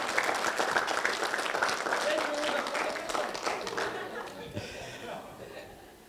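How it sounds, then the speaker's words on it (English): Wedding guests in Dubrovnik applaud the best man, a dense burst of clapping that fades out over several seconds, with a voice heard over the start. "if you give him a wee round of applause"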